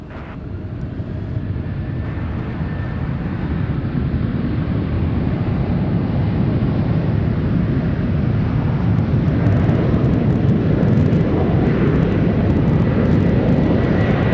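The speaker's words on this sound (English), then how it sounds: "Awesome sound for the 737 off to Houston." A Boeing 737 jet roars through its takeoff at San Francisco, the engine noise loud, broad and steady for the whole stretch, with wind buffeting the microphone and no talk.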